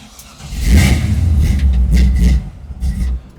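The Ol Fortay's engine cranks and catches after a fuel fix, then revs up loud and rough before settling and blipping again, close by with no talking.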